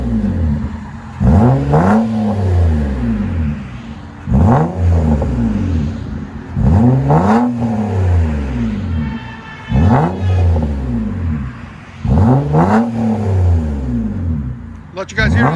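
A 2011 Nissan Altima SR with a 3.5L V6 and Magnaflow dual exhaust revs hard five times in a steady rhythm. Each loud, close blip rises and falls, with a constant idle drone between the blips.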